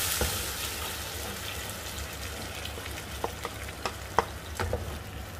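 Tomatoes frying in a pan while a mutton curry is made, a steady crackling sizzle throughout with a few sharper pops and spatters near the end, close and fairly quiet, no talking.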